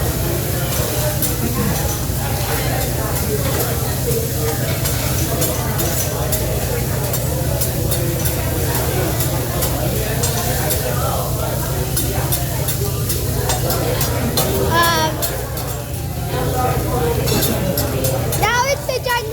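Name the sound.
stirring and frying rice with soy sauce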